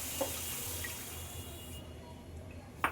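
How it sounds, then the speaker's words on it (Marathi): Water is poured from a bowl onto pineapple frying in ghee in a pan, giving a soft, steady splashing and sizzling wash with a few small knocks and no voices. "त्या पायनॅपलमध्ये आपण इथे 1 वाटी पाणी टाकत आहोत"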